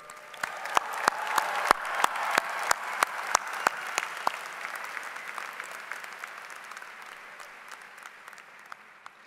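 Graduates at the 2023 Drexel University College of Computing and Informatics commencement are applauded, with a few sharp, close claps punctuating a broad crowd applause that gradually fades over about nine seconds.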